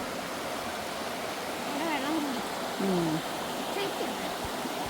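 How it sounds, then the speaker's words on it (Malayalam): River water rushes steadily over stones beneath the Chavadiyoor bridge, a continuous broad roar with a few faint voice-like sounds drifting over it. "ഓരോ കല്ലിക്കെട്ടിലൊക്കെ ഇങ്ങനെ തട്ടി തട്ടി തട്ടി പോകണുണ്ട് വെള്ളം"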